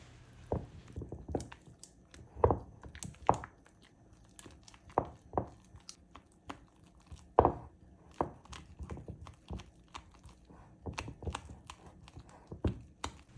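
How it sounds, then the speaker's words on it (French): Mascarpone cream mixed by hand in a bowl until smooth: irregular close knocks, taps and soft scrapes come in uneven bursts, with quiet gaps between strokes. "Mélange le tout jusqu'à obtenir une crème mascarpone bien lisse et bien onctueuse"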